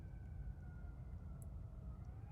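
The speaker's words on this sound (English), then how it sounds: "right now there's an ambulance I hear right down at the bottom of the road" An ambulance siren sounds far off down at the bottom of a road, a faint, steady wailing tone held under a constant low rumble of background noise, with no talking.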